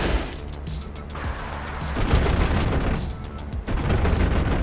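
Rapid 37mm cannon fire from a MiG-15 in a flight combat video game, a dense run of heavy booming shots close up over steady engine roar, with a short gap before the burst resumes.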